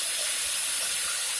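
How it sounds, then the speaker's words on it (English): Air hisses steadily during a plumbing pressure test on new pipework, a brief continuous rushing hiss close by with no talk. "I'll go ahead and put a pressure test on this so we can make sure it's not going to leak."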